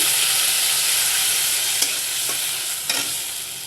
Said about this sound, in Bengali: তো এগুলো আমি কিছুক্ষণ ভেজে নিব